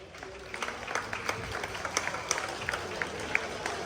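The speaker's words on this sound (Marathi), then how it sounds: "सर्व रसिकांना विनंती आहे जोरदार टाळ्या वाजवा" A crowd claps and cheers for a Govinda pathak's successful salute during a Dahi Handi celebration, steady outdoor applause with sharp individual claps rising through the noisy festive din.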